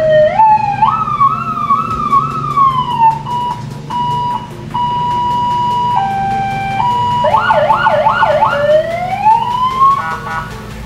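A siren blares through the megaphone loudspeaker of a modified Toyota Kijang Ranger SSX three-door, cycling through wailing, yelping and steady tones, loud and close with no talking.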